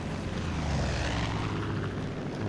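A propeller airplane engine drones loudly and steadily throughout, a dense, continuous roar from a plane flown in the video game Far Cry 5, with no speech over it.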